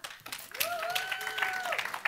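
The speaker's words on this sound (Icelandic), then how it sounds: "Gefum honum gott klapp." Soft applause from a church congregation during a service, fairly distant and quiet, with a drawn-out cheering voice rising and holding above the clapping.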